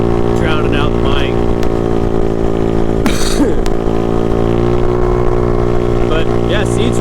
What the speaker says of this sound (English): The exhaust is pretty loud.